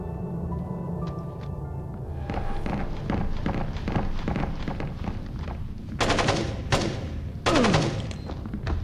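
Automated turrets in a Splinter Cell facility fire rapid, repeated bursts that build to loud volleys, mixed with thuds and hurried footsteps.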